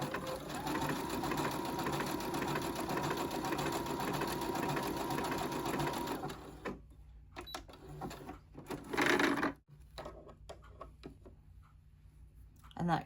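A regular home sewing machine runs an overcast stitch along a t-shirt neckline, humming steadily for several seconds before stopping, followed by quieter handling sounds and a brief rustle.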